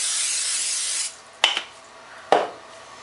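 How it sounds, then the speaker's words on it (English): A long steady hiss of cooking spray onto a pan, then two short sharp clatters of metal on the pan. "Spray the pan"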